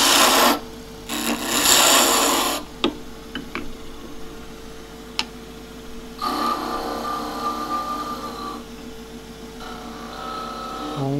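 A wood-turning tool making a clearing cut on a salt scoop, heard as close bursts of dry rasping shavings broken by short gaps, clicks and a softer hissing cut toward the end.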